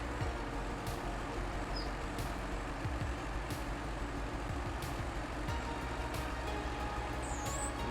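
Truck in the SnowRunner video game idling with a low engine drone, while short sharp hisses of air brake release recur at intervals over the steady rumble.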